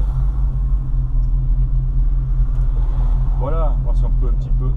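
Deep, steady rumble of a 1970 Ford Mustang Coupe engine heard from inside the car, loud and continuous, with someone speaking briefly over it near the end.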